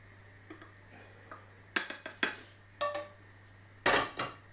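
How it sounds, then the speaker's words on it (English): Food is placed into an oven-proof bowl, giving several sharp clinks and knocks of utensil against dish, spaced irregularly and close by in a quiet kitchen. "So I'm going to put that in a bowl, in an oven proof one."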